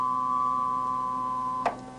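A sustained electronic tone holds one pitch while its brightness shifts as overtones fade in and out, with a brief soft blip near the end.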